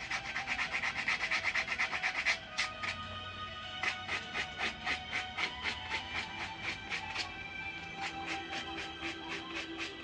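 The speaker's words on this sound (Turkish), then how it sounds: "Şu an ufak bir tahtayı zımparalıyor." Steady rhythmic sanding of a small piece of wood for a miniature house, close up, with a continuous scratchy rasp breaking into repeated back-and-forth strokes.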